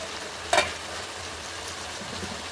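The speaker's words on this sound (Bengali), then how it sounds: "এবার দেখো এটাকে নাড়িয়ে নেবো একটুখানি" A pan of mixed vegetables for labra (potato, carrot, papaya, radish and onion stalks) sizzles steadily while being stirred, with one sharp utensil clink against the pan near the start.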